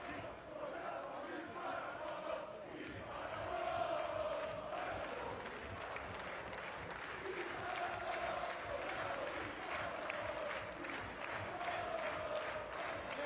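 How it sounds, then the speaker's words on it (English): Home supporters of Umana Reyer Venezia filling a basketball arena during a pause in play, a loud continuous crowd roar with rhythmic chanting and clapping pulses, voices rising and falling together throughout. "The crowd are providing their own entertainment in the moment while we wait."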